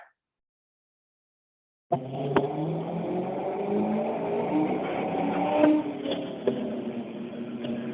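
After brief silence, a car engine with a Terminator X tune revs up in third gear on a dyno and holds under load toward 4,200 rpm, a steady muffled roar climbing slightly in pitch, close and continuous.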